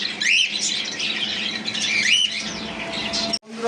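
Several pet birds, cockatiels, conures and java sparrows at a sale, squawk loudly and harshly, overlapping in a busy, continuous chorus with sharp rising calls standing out, then it cuts off abruptly near the end.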